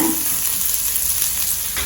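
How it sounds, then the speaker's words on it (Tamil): Steady, close sizzling of finely chopped onion sautéing in a hot pan for tomato chutney, a continuous crackling hiss with no talking. "வெங்காயம் வந்து நல்லா வதங்கணும்"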